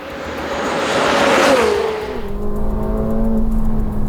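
A powerful 2024 McLaren 750S engine revs hard, climbing then dropping in pitch as it shifts, a loud sustained roar close by.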